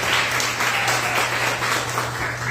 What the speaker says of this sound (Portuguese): Dê um forte aplauso ao nome do Senhor pela vida dele